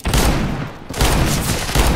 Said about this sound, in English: I'm gonna get a one-shot headshot with the revolver